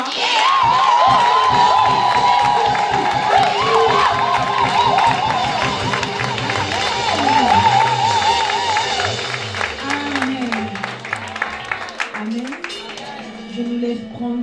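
A church congregation fills the room with loud, sustained shouts of joy, cheering and clapping. Voices rise and fall together over a steady wash of crowd noise, with a few singing or wailing tones weaving through.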